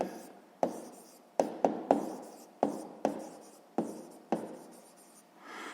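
A pen writes on paper in short bursts, each stroke starting with a sharp tap and fading, about ten in a row, close and distinct.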